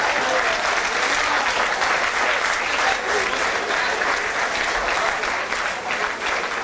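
A crowd at a Tucumán stand-up comedy and impressions show breaks into sustained, loud applause, thick and continuous for several seconds, with faint voices mixed in underneath.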